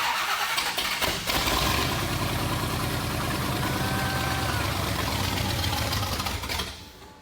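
A monster truck engine cranks and sputters while someone pumps the gas, running rough and loud for several seconds before the noise drops away near the end.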